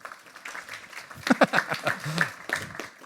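A few people at a small live hospitality industry event give a thin, sparse ripple of clapping, separate claps standing out one by one amid light chatter and a chuckle.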